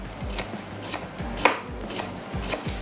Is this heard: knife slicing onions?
yes